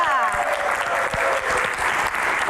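Audience applause for panelists at an Indonesian Q&A stage event, a dense, loud, continuous wash of clapping filling the room.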